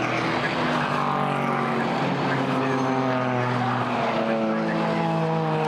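GT4 race cars pass at Brands Hatch circuit, loud droning engine tones sweeping and shifting pitch continuously, one car with something dragging on its right rear corner.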